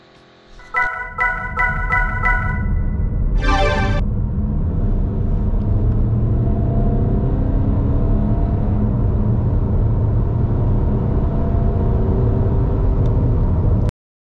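Beeps and chimes sound at first, then a 2017 Volkswagen Tiguan TDI 150 diesel SUV's engine settles into a steady low drone with road rumble, heard from the driver's seat, continuous and close, with no talk.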